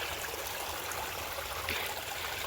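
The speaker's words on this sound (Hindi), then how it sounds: "यहाँ पे पानी की साउंड बहुत ही ज़्यादा है।" Rushing water from a drain stream swollen after heavy rain, a steady broadband wash with no pauses, continuous and fairly close throughout.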